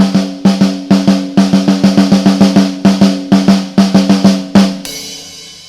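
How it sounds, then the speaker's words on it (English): A Tama Superstar snare drum, extra inch deep, is struck close and loud in a quick rhythmic pattern of crisp, ringing hits with snare buzz, ending on a final accent that fades into a short rattling tail. "We've got this Tama snare installed"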